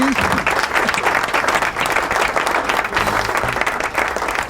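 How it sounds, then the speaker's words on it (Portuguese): A full audience at a live show applauds a guest, loud, dense clapping rolling continuously with faint voices mixed in underneath. "Palmas pra ele!"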